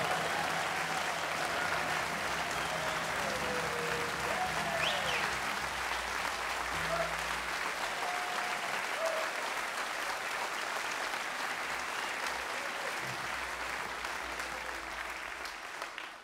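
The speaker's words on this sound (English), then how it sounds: "one huge, huge, rousing round of applause for everybody who's been working this festival" Festival audience applauding the crew at a music festival finale, a long, sustained round of crowd clapping heard at a distance, with faint voices and whistles rising through it.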